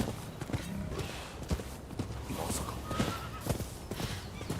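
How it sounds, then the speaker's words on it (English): Video game horse hooves clip-clop at a quick walking pace over a busy, noisy background, the steps irregular and moderately loud. "Now we'll take somebody else's horse."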